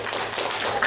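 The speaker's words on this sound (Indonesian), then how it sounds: "tepuk tangan dulu" Students clapping in a secondary-school geography classroom after a classmate's presentation: a brief, dense burst of many hands applauding at moderate loudness, with no voices.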